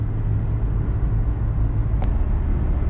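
Inside a Nissan driven after new sway bar links, a steady low road rumble and engine drone hold even throughout, with one brief faint click partway.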